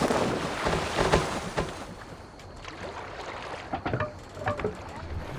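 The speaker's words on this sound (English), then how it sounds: "You must row in these waters." Oars splash rhythmically as a boat is rowed in the Assassin's Creed Valhalla video game, with soft wind and water noise and irregular strokes close by.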